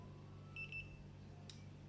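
Paint thickness gauge in single mode emitting a short, faint electronic beep, a brief double chirp followed by a quick click, in a quiet room.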